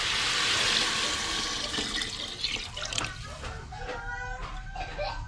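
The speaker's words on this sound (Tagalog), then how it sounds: "So pwede na yan, lagyan na natin ng tubig." Water pours steadily into a cooking pot for chicken tinola, a strong rushing splash that thins into trickling and sloshing, with faint background sounds and no clear talk.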